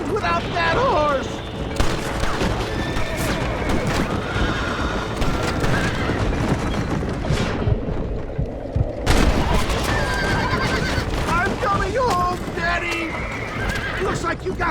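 Horses neigh and hooves clip-clop in the Western video game Red Dead Redemption, with loud whinnies amid a gunfight with gunshots and constant character dialogue.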